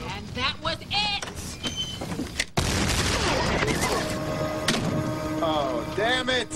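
Gunfire in a 2003 Lone Ranger film, a sharp loud blast cutting into a dense burst of crackling noise, with voices talking before and after amid the film soundtrack.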